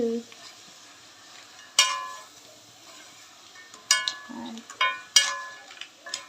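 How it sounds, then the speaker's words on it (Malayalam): Crab roast is stirred in a pan, making a few sharp metallic clinks and scrapes spaced seconds apart over a faint sizzle. Soft sounds that may be a voice are heard now and then. "ഇളക്കി കൂട്ടങ്ങട്."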